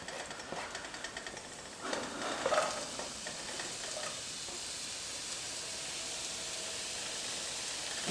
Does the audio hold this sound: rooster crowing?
no